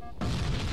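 A grenade goes off in Halo: Combat Evolved Anniversary as a sudden loud blast after a short quiet moment, followed by a rumbling boom that carries through to the end.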